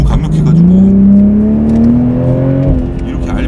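A BMW Z4 M40i sports car's engine accelerates hard with a loud exhaust note, its steadily rising pitch climbing through the revs with an open top in winter, close and dominant, then easing off near the end.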